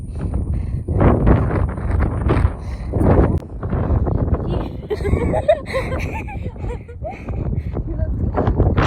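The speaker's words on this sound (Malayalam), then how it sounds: "നല്ല കാറ്റാണ്." Strong wind buffets the microphone in heavy, roaring gusts throughout, with people talking underneath.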